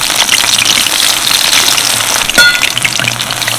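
Battered banana flower fritters bubble and crackle in fairly deep oil over medium heat, a steady dense sizzle running throughout, with one sharper pop near the end.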